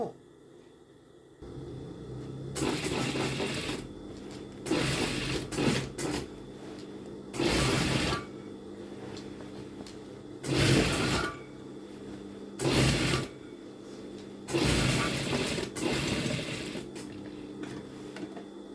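A sewing machine stitches a seam in fabric in several bursts of steady whirring, each a second or two long with short pauses between, fairly close and clear with no talking.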